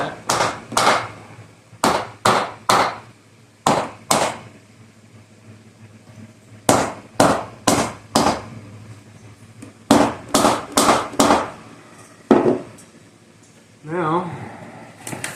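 A hammer knocks a clamp flat in sharp metallic bursts, usually three or four strikes in quick succession, separated by pauses, loud and close, with brief talking near the end.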